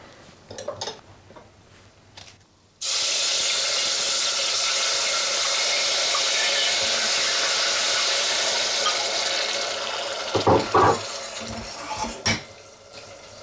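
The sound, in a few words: pureed tomatoes sizzling as added to hot oil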